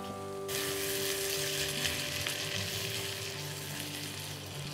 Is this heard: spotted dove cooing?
no